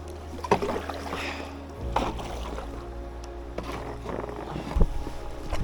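Canoe launched onto the current of the Loire river, with soft splashes and knocks against the hull, a watery rush shifting partway through, then scattered paddle and wood thumps close by.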